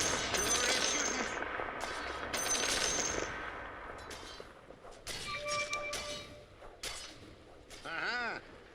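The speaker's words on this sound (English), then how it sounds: "Sure is shooting." Rapid bursts of gunfire from a shooter video game crackle in quick succession, mixed with chiming and metallic game effects, some louder bursts and a few brief pauses.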